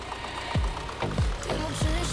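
Farm tractor engine in Farming Simulator 19, a steady mechanical drone with repeated low thumping pulses at a regular rhythm, close and moderately loud.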